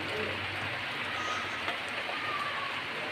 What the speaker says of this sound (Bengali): এই যে দেখুন এখনও বৃষ্টি পড়তেছে